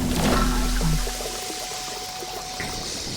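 Water pouring in a sci-fi thriller scene, a loud close gush that tapers after about a second into a softer steady trickle, with no speech over it.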